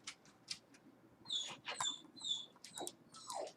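Dogs whimpering and whining indoors as someone arrives home, a string of short high yelps and whines rising and falling over a few seconds, fairly close and alone without talk.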